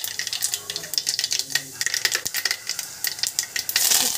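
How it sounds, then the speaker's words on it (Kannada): Mustard seeds, cumin and curry leaves crackle and pop in hot oil for tempering, with rapid irregular snaps over a soft sizzle, close up and without talk. "ಇವಾಗ ಸಾಸಿವೆ ಜೀರಿಗೆ ಚಟಪಟ ಅಂತ ಇದ್ದಾವೆ"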